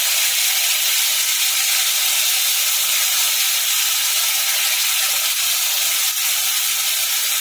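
A paste of ginger, garlic and ground chili sizzles in hot oil for a Schezwan young jackfruit dish, giving a loud, steady, unbroken hiss close to the pan throughout.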